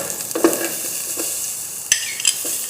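Garlic browns in a frying pan with a steady hiss of hot fat and a few spoon or pan knocks, close up with no talking.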